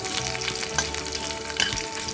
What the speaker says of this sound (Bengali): এবারে দিয়ে দেব আদা আদা ফোড়ন দিয়ে দিচ্ছি